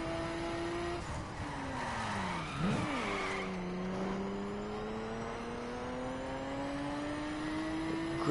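A car in the video game The Crew skids through a corner, engine note dropping then climbing steadily with tire squeal mixed in, a continuous close drone with no talk.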